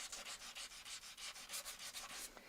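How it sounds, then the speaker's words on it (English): Fine-grit sandpaper rubbed by hand along the edges of a small wooden heart, a quiet rhythmic scratching in quick regular strokes, about a dozen passes close up with no voices. "this is so fine of grit of sandpaper, I actually could, if I wanted to, take it all over the top if there's anything rough or bumpy"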